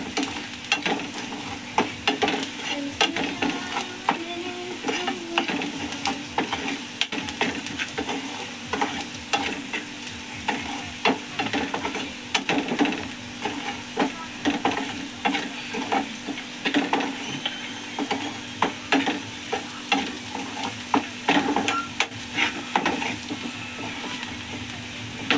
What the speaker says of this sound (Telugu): చూడండి, లైట్గా ఇప్పుడిప్పుడే వేగుతున్నాయి.